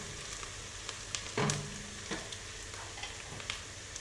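Garlic fries in a pan for mushroom soup, giving a soft, steady sizzle with a few light clicks and one brief stir.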